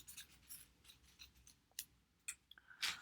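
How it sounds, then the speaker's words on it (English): Scissors snip a leaf shape out of folded paper, a series of quiet, close snips and crisp paper rustles in an irregular rhythm, with no voices. "I'm going to just cut out a leaf shape."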